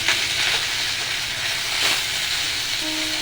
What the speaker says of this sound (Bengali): উল্টে পাল্টে ভেজে নেব।